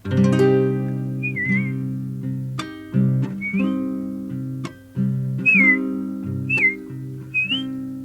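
A person whistles short, bird-like rising and falling phrases in a C minor register, imitating a thrush's song, over sustained instrumental tones.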